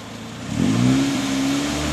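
A Honda Civic EF sedan with a B16A engine revving hard during a burnout on McDonald's trays, the engine note rising sharply and then holding a loud, steady high-rev drone with no talk.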